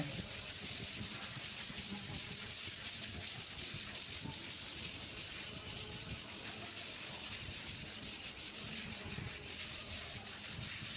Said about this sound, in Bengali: এইখানে আমাদের মিস্ত্রিরা টেবিল দিয়ে ঘষতেছে।